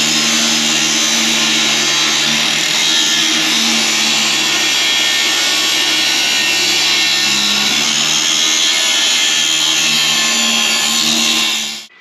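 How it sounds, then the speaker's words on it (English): A steady, loud angle grinder cutting teeth into a metal part on a 2022 Corvette Z51 runs nonstop for about twelve seconds, high and harsh with a low motor hum underneath, then cuts off. "First I'm going to grind teeth so they'll slide in here."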